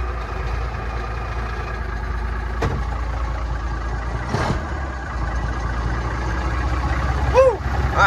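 An old Mack B61 truck's engine runs steadily after a battery charge, a continuous low rumble with a couple of brief clanks and a short squeak near the end.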